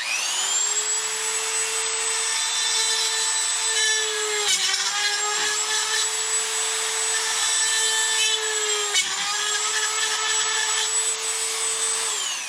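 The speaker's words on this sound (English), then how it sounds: "So I'm going to use the Dremel to drill it out since I don't have a drill here today" A Dremel rotary tool drills into an RC truck bulkhead for a Traxxas XRT, a high steady whine that dips briefly twice as it bites into the part, close and loud with no voices.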